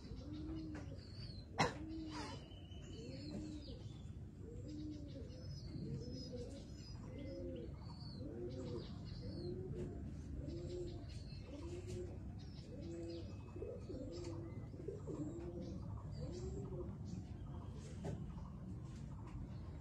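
Pigeons coo over and over in a steady, rolling rhythm, faint and continuous, with occasional small chirps mixed in.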